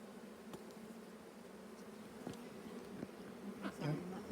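A dense, continuous hum of many buzzing bees fills the air, with a few individual insects droning closer past the listener.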